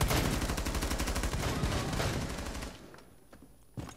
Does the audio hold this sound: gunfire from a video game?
yes